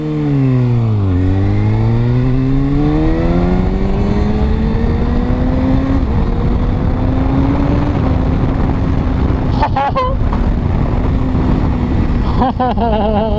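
A tuned Kawasaki ZX6R sport bike engine climbs and drops through its revs while riding, a loud, steady roar with rising pitch sweeps and shifts and no talk.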